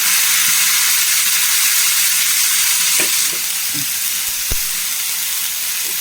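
Onions and chilies fry loudly in a pan for Kerala-style sambar, giving a constant dense sizzle with a few soft stirring knocks and a slight drop in intensity partway through.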